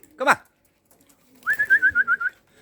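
Young racing pigeons give a short rising call and then a series of about eight rapid, even coos, close and clear in a quiet setting.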